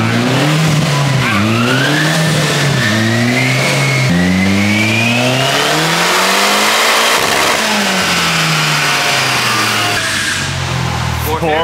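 Turbocharged rear-wheel-drive Honda Civic engine on a dyno at 17 PSI boost, revving hard in loud rising sweeps with quick drops between pulls, close and dominant, with voices faintly under the engine noise.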